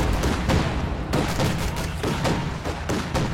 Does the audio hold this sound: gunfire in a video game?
yes